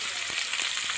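Onions and green chilies sautéing in a pan with whole garam masala, a steady close sizzle of frying with a few soft stirring knocks and no talk.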